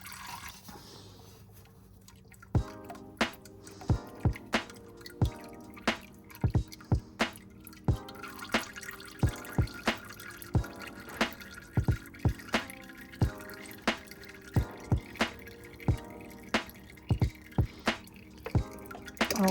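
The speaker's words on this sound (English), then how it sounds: "Go ahead, just let that drip for a little bit." Engine oil from a 2009 Range Rover L322 4.2L supercharged engine dripping into a drain pan, a steady series of sharp, close drips at irregular intervals after a quiet start, with no talking.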